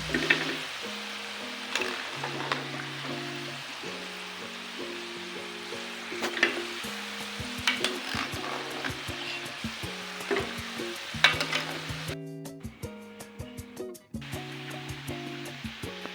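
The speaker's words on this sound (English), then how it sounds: "I'm frying them into 2 bunches." Steady sizzling of potatoes frying in hot oil, a continuous crackle with occasional pops, with soft music playing underneath.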